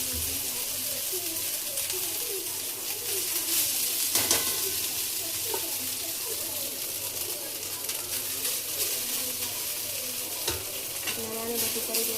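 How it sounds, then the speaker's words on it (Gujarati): Rice seasoning sautés in a pan, making a loud continuous sizzle and frying hiss with occasional stirring scrapes, close to the mic, and faint voices in the background. "આ સરસ 1 મિનિટ માટે આને સાંતળવાના છે આપણે"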